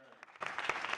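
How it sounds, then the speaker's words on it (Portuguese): Audience applause at a talk breaks out after a quieter start, a dense wash of clapping that swells in the second half and stays steady to the end. "Aplausos."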